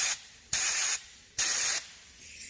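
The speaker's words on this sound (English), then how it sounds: "I'll take a little bit of brake clean, spray on the end of the hole" Brake cleaner sprays from an aerosol can into a hole on a Holley carburetor, giving two loud, close hissing bursts of about a second each with short pauses between.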